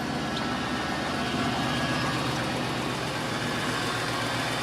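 A truck engine idles quietly with a low, even rumble, steady and unchanging throughout.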